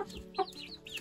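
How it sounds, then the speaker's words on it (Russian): Chickens clucking in an incubator-raised coop, short close clucks and a brief squawk over a quiet background. "Он уже умеет так красиво кукарекать."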